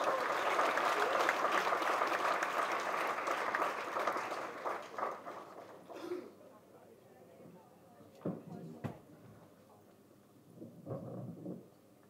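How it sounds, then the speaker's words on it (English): Audience applause at a short film launch event, loud at first and fading after about six seconds into quieter murmurs, scattered claps and brief speech. "Huge round of applause, ladies and gentlemen, for Kajal Agarwal."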